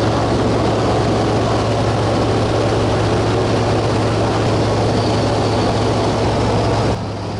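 A Fairchild 24W light aircraft's engine and propeller drone loudly and steadily in flight, a constant heavy hum with a low tonal buzz heard from inside the cabin, with no talk.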